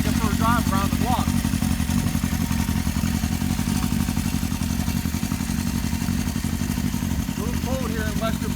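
A 1973 Honda CB750 motorcycle engine runs steadily during a ride, a loud continuous low rumble that stays constant throughout, with brief chirping bird calls faintly above it.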